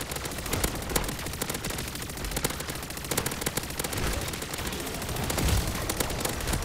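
FJX gun firing in MW3 Zombies, rapid continuous automatic bursts of sharp cracks in quick rhythm, steady and close, with faint game noise underneath.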